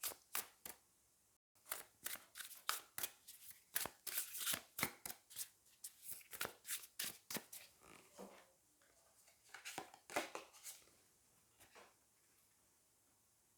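Tarot cards shuffled by hand in a rapid run of crisp riffling slaps and flicks, followed by cards being drawn, close and fairly loud with no talking.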